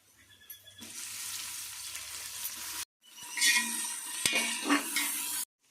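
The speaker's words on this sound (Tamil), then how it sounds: "வெங்காயம் பார்த்தீங்கன்னா நல்லா வந்து பொன்னிறத்துக்கு வந்து செவந்து வரட்டும்" Onions frying in a pan until golden brown for a country chicken biryani, a loud continuous sizzle broken by a short silent gap, with stirring scrapes and a sharp clink near the middle.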